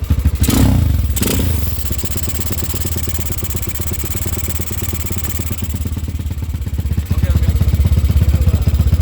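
A Honda CB100 motorcycle engine is heard close and loud, with a couple of sharp clattering thumps at the start and then a steady, rapid rhythmic putter. The putter grows louder toward the end as the throttle is opened.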